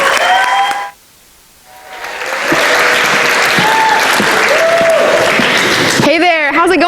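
An audience at the 92nd South Carolina FFA Convention, 2019, applauds loudly to welcome the National FFA Vice President, the clapping swelling after a brief pause and holding steady with whoops and a voice over it.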